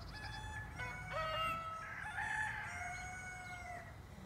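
Splash Brahma roosters crow in overlapping calls, fairly close, one long cock-a-doodle-doo following another against quiet outdoor background noise.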